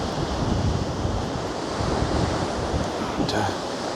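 Rough, stormy high sea waves crash against the Blackpool promenade at high tide, making a loud, continuous roar of surf mixed with heavy wind buffeting the microphone.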